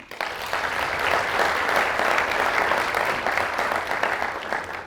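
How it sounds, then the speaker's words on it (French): A conference audience applauds the Minister of Industry and Commerce with dense, sustained clapping that stays even throughout, with no voices rising above it. "Je pense que ça mérite des applaudissements."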